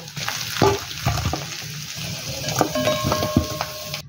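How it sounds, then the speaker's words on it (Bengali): Oil sizzles steadily around potatoes frying, with metal utensil clinks and scrapes against the pan throughout, close and fairly loud. "এবার আলুগুলোকে ভালো করে তেলের সাথে লাল লাল করে ভেজে নেব"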